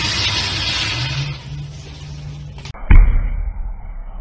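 A giant alligator at Gator World snaps its jaws shut with a single loud, heavy thud. Brief rustling and handling noise comes first, then a quieter, lingering background afterward.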